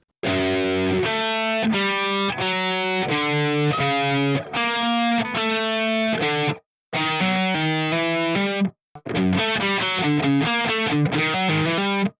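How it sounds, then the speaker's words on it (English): A heavily distorted electric guitar plays a chunky metal riff, repeated notes and chords, loud and upfront, with brief pauses between phrases. "It doesn't sound like it's actually just a guitar playing with a bit of distortion."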